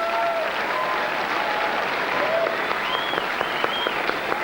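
Audience applause fills the hall at the 2006 Logies awards during the Play School Hall of Fame induction, steady clapping from a large crowd with a few whistles.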